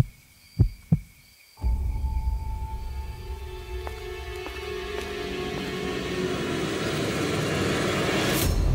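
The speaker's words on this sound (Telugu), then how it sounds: "క్రోధ గుండె చప్పుడు మరింత పెరుగుతుంది" A heartbeat sound effect in a Telugu horror story: two quick, isolated thumps, then a sustained low rumbling drone that slowly swells.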